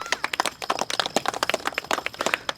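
A crowd claps at the inauguration of a cricket ground in Saint-Gilles, with steady, busy, close applause throughout and no talking.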